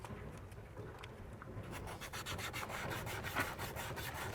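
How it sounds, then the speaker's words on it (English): Steady rhythmic abrasive rubbing, close by, of a tire surface being sanded to prep for a patch on a Rubicon. The strokes grow quicker and louder partway through. "as you're sanding this down and prepping the surface"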